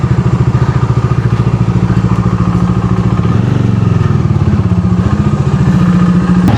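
A Bajaj Dominar motorcycle engine running with a loud, rapid, throbbing low pulse, rising a little in pitch and intensity partway through as it revs, steady and close with no voices.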